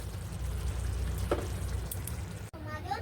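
A coconut bara curry simmers over a low gas flame, giving a faint, steady bubbling and sizzling close by, with one soft pop midway and a brief clatter near the end.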